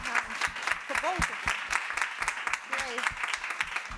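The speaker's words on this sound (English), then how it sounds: "Well, let's clap." Audience clapping after a medical presentation, a moderate round of hands under overlapping talk and a few voices, near and fairly steady throughout.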